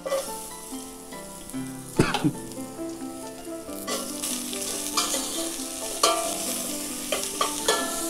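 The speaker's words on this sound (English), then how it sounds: "Saute the vegetables nicely for a few minutes." Vegetables sauté with golden onions in a pan for a mushroom biryani, giving a steady sizzle broken by sharp clanks and scrapes as a spoon stirs them against the pan.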